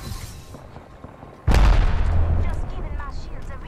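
Rapid gunfire erupts suddenly in an Apex Legends match, loud and sustained bursts of automatic weapon fire with booming low impacts continuing to the end, following a quieter stretch of ambient game sound.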